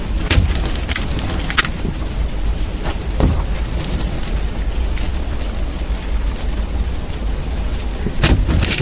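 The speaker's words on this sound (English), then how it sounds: "it's just started to rain." Steady rain patters outdoors, a dense broadband hiss with a few sharper drops and gusts standing out now and then.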